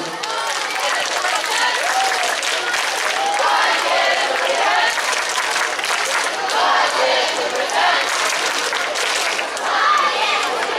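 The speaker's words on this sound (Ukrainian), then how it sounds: "Привітаємо їх оплесками!" Audience at a Ukrainian talent show applauding a cha-cha-cha dance duo, loud sustained clapping and cheering from a crowd filling the hall for about eleven seconds, with some voices and shouts mixed in.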